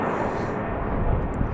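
A Southwest Airlines plane departs BWI airport in Baltimore, its engines giving a steady, continuous broadband roar that holds at an even, fairly loud level throughout, with no voices.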